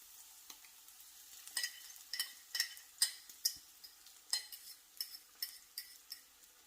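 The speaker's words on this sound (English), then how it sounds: "so I'm just gonna scramble my eggs up just a little bit more." Eggs scrambled in a greasy pan, with quick clinking scrapes of a utensil against the pan over a faint sizzle, close and fairly soft, no talking.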